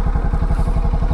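Bajaj Pulsar NS200 motorcycle engine idling and pulling through a tight U-turn, a steady low rhythmic thumping pulse, close and fairly loud with no talk.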